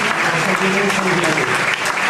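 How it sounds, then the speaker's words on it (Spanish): Thunderous applause from a lecture audience honoring a conference speaker, a dense sustained wash of many hands clapping throughout, with faint voices mixed in. "de nuevo el aplauso ahora sí más atronador a Elvira"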